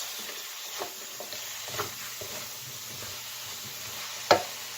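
Sweet and sour chicken with pineapple chunks sizzles and simmers in a pot on high heat, a steady bubbling hiss with occasional soft stirring clatters and one sharper knock near the end.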